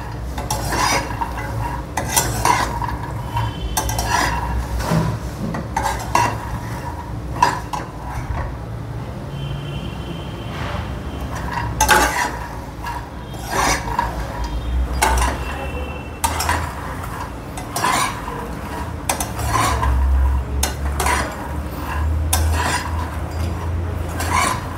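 Makhana (fox nuts) dry-roasting in a pan on low heat while a spoon stirs them, repeated scraping and rattling strokes against the metal with soft clinks, steady rhythm, close by.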